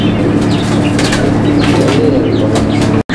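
A pair of fancy pigeons, a cock and a hen, flap their wings in a continuous, close, fluttering rush that stays steady and loud before cutting off abruptly at the end.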